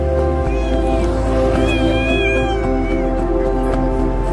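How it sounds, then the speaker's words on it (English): A cat on a street near the Dubai Marina meows several times in rising, wavering cries. Steady traffic and city hum sit underneath, and voices can be heard in the background. "There are cats everywhere too."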